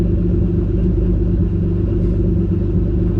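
A car engine runs steadily at half throttle on a road, a loud continuous low rumble with a dense droning hum that holds an even level throughout, with no voices.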